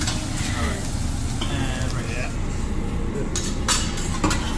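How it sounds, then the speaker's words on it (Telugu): Vegetables, shrimp and chicken sizzling on a hibachi grill, a loud dense fry under restaurant chatter, with metal spatula clinks and scrapes near the end. "ఇప్పుడు మొత్తము వెజ్జీస్, షింప్, చికెన్ మొత్తం అన్నిటినీ ఫ్రై చేస్తారు ఫుల్"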